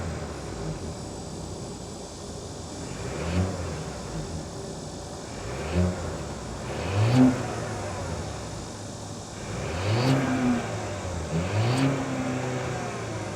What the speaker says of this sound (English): that was the sound of the 2-liter turbocharged 4-cylinder mild hybrid setup sold by Volvo for the